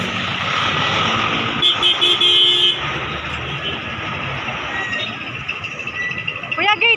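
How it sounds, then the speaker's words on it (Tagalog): A motor tricycle rides through traffic with its engine rumbling while nearby car horns toot in short bursts and loud road noise surrounds it. "sasakay akong tricycle"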